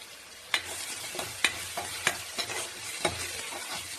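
Onion paste frying in a pan with biryani spices, a soft continuous sizzle broken by about five distinct scraping and tapping strokes as a spoon stirs the mixture.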